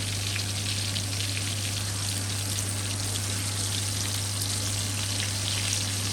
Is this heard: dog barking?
no